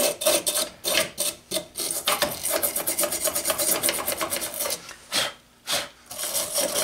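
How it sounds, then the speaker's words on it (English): A stiff brush scrubs old paint and corrosion off a car tail light, making loud, close, rapid rasping strokes in irregular bursts with short pauses between them. "do a little bit of cleaning here with the brush. Get that old paint off of there."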